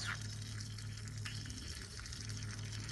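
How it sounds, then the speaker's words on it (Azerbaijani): Two samples of motor oil are heated until they boil in a quality test, giving a continuous bubbling hiss over a steady low hum, with no speech. "İki yağ demək olar ki, qaynayır"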